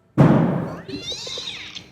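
A cat gives a loud, close meow right after a sudden thump. The call trails off into a thinner, wavering tail in a quiet indoor space.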